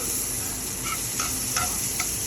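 Bacon grease and homemade butter sizzling in a pan for pancakes, a steady bright hiss with a few faint scraping stirs, close and continuous, no talk.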